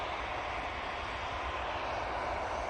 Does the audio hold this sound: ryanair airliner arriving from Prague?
yes